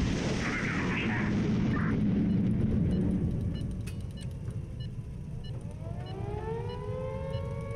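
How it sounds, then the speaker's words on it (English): An air raid siren wails in the video game Highfleet, a loud, sustained rising and falling tone over a rumbling game soundscape, with a sweeping whine rising near the end. "again, an air raid siren coming in."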